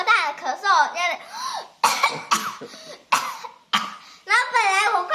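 A child imitates a father's sudden loud coughing, producing a series of sharp, raspy cough-like bursts and throat-clearing sounds close to the microphone, mixed with bits of voiced talking.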